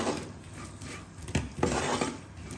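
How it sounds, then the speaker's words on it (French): A spoon scrapes and knocks around a pan as walnuts are stirred into freshly made caramel, giving short sticky rubs and clinks up close, with no talking. "Je vais y ajouter les noix. Je mélange bien pour toutes les recouvrir."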